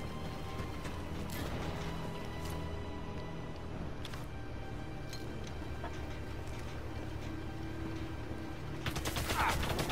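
Gunfire aimed at the player in a video game: scattered faint shots crack at intervals against a steady mechanical ticking and clattering backdrop, with a denser burst near the end.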